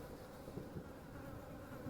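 Faint, steady buzzing of insects swarming around a dead priest in The Exorcist: Legion VR video game, a soft continuous drone with no talk.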